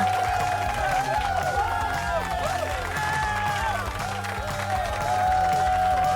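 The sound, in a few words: audience applauding a performance on stage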